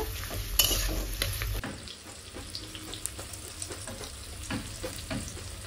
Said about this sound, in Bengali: এবার তেলও গরম হয়ে গেছে, আর পেঁয়াজগুলোকে ছেড়ে দেবো। এবার ভালো করে পেঁয়াজগুলোকে ভেজে নেব।